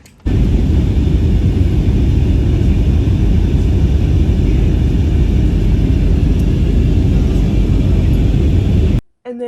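Steady, loud broadband roar of an airplane at an airport, heard outdoors as a constant rumbling wash of engine noise that holds for several seconds, then cuts off abruptly near the end.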